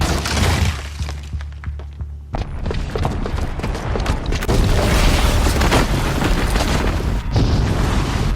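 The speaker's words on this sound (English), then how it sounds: "the booby trap on the bomb downstairs is gonna get set off" A booby-trapped bomb goes off in Horizon Zero Dawn with a deep booming blast and shattering debris, followed by sustained loud rumbling and crashing.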